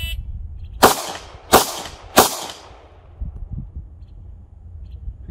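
Three sharp gunshots ring out roughly 0.7 seconds apart during a baseline assessment shooting drill, each a loud crack with a short ringing decay, fired one-handed with the dominant hand, followed by quieter background rustling.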